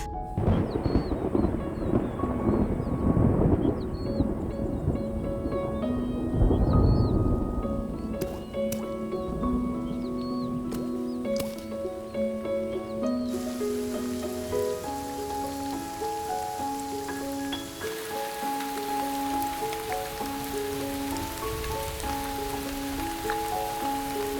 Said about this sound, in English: After months of drought and struggle, the rains finally arrive.